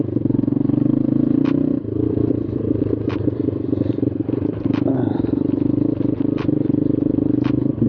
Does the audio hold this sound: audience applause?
no